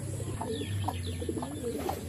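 Soft pigeon coos repeat in low, murmuring bursts, close by, over a steady background hum.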